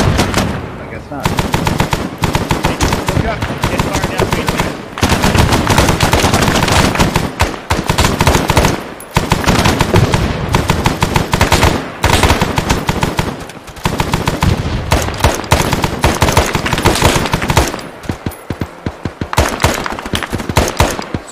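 Gunfire in the military shooter Arma 3, loud near automatic bursts rattling almost without a break, with short lulls and some rapid single shots, while players talk over the noise.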